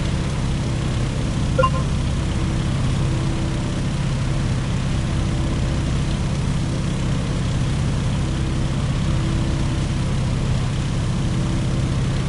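A steady, droning propeller engine of a Boeing Stearman PT-17 biplane hums continuously at even power, cruising in flight in a video game, with no voices.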